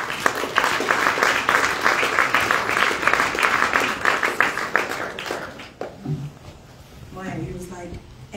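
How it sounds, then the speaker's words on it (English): An audience applauds after a keynote address at a conference, with sustained clapping filling most of the stretch before it fades, and a voice speaking over the tail end. "Another round of applause for her."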